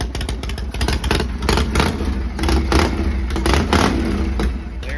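A Harley shovelhead motorcycle engine idles low and uneven, a loud, close, steady lumpy putter with clattering mechanical noise throughout, no voices.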